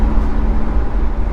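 A Honda Beat with a mid-mounted 660cc engine and rear-wheel drive runs while driving, a loud, steady low drone with a constant hum, heard close from inside the car with no talking.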